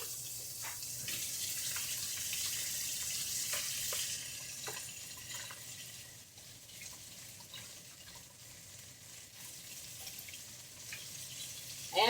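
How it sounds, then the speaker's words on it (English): Two tablespoons of butter melting in a hot skillet ahead of searing steaks, giving a steady close sizzling hiss that is louder for the first few seconds, then softens into a quieter crackle with scattered pops. "2 tablespoons of butter. Let that melt down"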